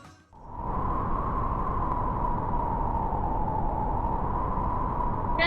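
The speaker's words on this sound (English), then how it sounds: "Right, this is wind." Wind blows as a steady, loud, broad rush that swells in within the first half second and holds evenly to the end, with a faint whistling tone riding through it and no voices.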